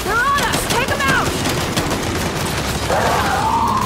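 Turret gunfire in Gears 5 rattles in dense bursts near the start, then a sustained rising whine and continued shots, loud and close throughout with no speech.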